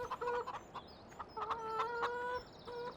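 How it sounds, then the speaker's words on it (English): Chickens cluck and squawk in the Farming Simulator 2017 video game, a busy run of overlapping, fairly faint bird calls with no talking. "Wow, these chickens make some noise."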